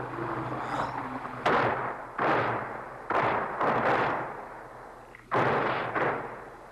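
Syrian and Israeli artillery guns firing in a battlefield duel, a series of loud booming shots with rumbling tails, about six blasts in irregular succession, fairly close, with no talk over them.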